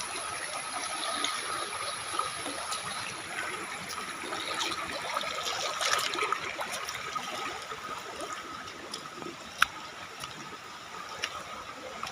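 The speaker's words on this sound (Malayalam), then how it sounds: "വെള്ളം അങ്ങോട്ട് കുറേ ദൂരത്തേക്ക് ഒഴുകിപ്പോണ്ട്" Water flows away from the Vattayi waterfall in a steady, soft trickling rush, with a few sharp clicks and a faint distant roar.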